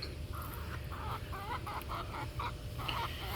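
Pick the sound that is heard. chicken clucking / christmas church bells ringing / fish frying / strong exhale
chicken clucking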